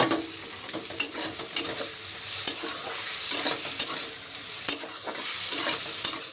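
Egg being stirred and fried with tarka masala in a pan gives a steady close sizzle, broken by repeated scrapes and clacks of the spatula, with no talk.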